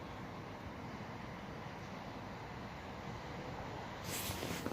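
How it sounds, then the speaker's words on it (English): A passing train at Leighton Buzzard railway station gives a steady, broad rumble throughout, building into a louder, brighter rush over the last second as it draws close. "And there's another train coming down so far."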